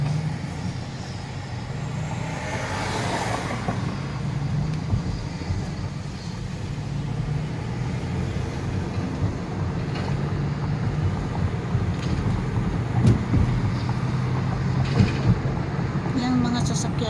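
Road traffic keeps up a continuous broadband rumble of passing vehicles at moderate distance, with a few louder swells and faint clicks scattered through it.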